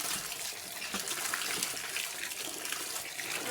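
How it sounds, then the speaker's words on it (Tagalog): Pili nuts being washed under running water, a steady gushing tap stream with faint splashing and handling, close and continuous, no talking. "Hugasan muna natin dahil madumi."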